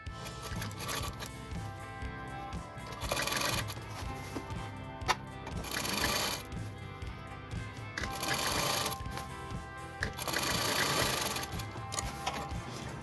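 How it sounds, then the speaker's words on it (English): A sewing machine stitches lace onto a neckline, its close mechanical whir running steadily in rhythmic bursts that swell and ease as the fabric is fed, with no talking. "now sew this lace on the left hand side neckline like this"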